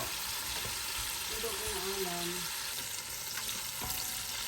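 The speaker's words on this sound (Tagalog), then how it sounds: "Ayan, igigisa natin para maluto." Pork belly and onion sauté in a hot pan, giving a steady close sizzle with stirring scrapes, and a faint voice briefly sits under the frying.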